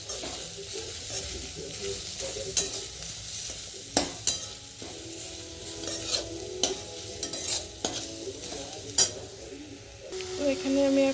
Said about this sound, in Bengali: তো এখন আমি গাজরটাকে ভেজে নিচ্ছি